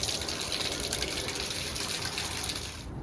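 Water gushes steadily from an RV's outdoor shower fixture after its valve is opened, a close, continuous hissing spray that holds at even loudness before easing off at the end.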